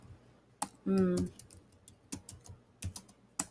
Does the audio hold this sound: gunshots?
no